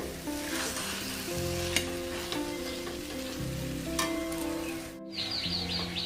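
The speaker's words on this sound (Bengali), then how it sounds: "এবার এটা কষাতে হবে" A dish is stir-fried (kosha) in a pan with a continuous close sizzle and scraping stirs, while soft tonal music plays underneath and briefly cuts out near the end.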